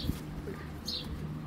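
Male and female pigeons kept as a pair give a soft, low coo, faint and brief under a hum of room noise.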